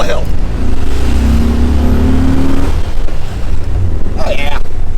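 A 1979 VW Super Beetle engine pulls up a hill with a loud, steady droning rumble from inside the car, wind noise over it and a brief voice near the end.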